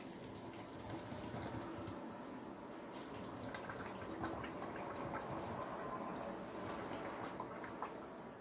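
Brine is poured into jars of tomato salad, a faint, continuous splashing flow of liquid that runs steadily for several seconds.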